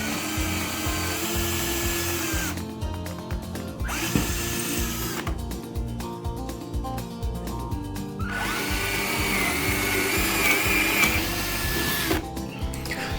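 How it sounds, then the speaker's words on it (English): A power drill bores 1/8 inch and 1/4 inch holes through a wooden model railway layout board, several loud whining bursts separated by short pauses, with some rubbing and scraping of wood between them. "drilled out 1/8 inch holes for the lead wires and a 1/4 inch hole for the turnout link"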